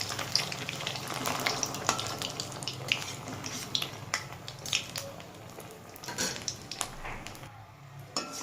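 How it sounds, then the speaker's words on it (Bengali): Small prawn fritters (kucho chingri bora) deep-frying in hot oil give a steady, dense sizzle with scattered sharp crackles and pops, close and moderately loud, with no voices. "চিংড়ির বড়াগুলো ভাজবো, চপগুলো"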